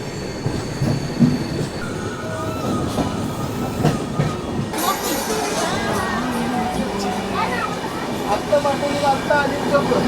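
The 12343 Darjeeling Mail passenger train runs from Kolkata toward New Jalpaiguri with a continuous rumble, rhythmic wheel clatter and occasional squeals inside a sleeper coach, while people talk over the noise.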